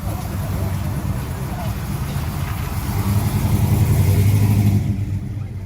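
A vintage car with an American engine idles and revs at an oldtimer meeting in Postojna, a low rumbling drone that swells louder midway, with voices talking over it.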